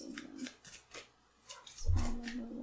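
Tarot cards shuffled by hand for a reading, a run of quick, close, papery riffles and rubs in short uneven bursts with no voice.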